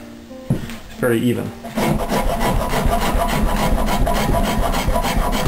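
A rat tail file rasps against a wooden guitar neck in repeated rhythmic strokes, loud and close, shaping gentle curves after a few scattered handling knocks at the start.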